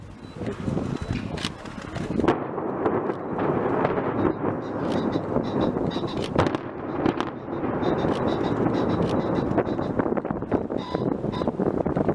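Controlled demolition of a university power plant, a series of deep booming blasts and crackling bursts with rumbling debris and wind buffeting the microphone, loud and irregular throughout.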